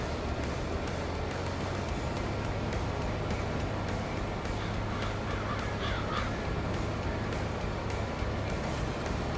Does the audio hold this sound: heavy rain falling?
no